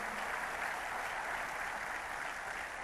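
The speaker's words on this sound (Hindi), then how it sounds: "जोरदार तालियां इन सबके" Steady, loud applause from an audience cheering athletes at a National Sports Day celebration in New Delhi, a dense unbroken wash of clapping with no speech.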